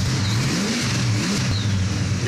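A 1969 Oldsmobile Cutlass muscle car engine runs and revs in a shop, a deep rumble swelling and dipping in pitch over a couple of seconds, loud and close with no talking.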